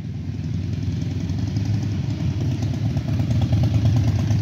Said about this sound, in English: First bike's here.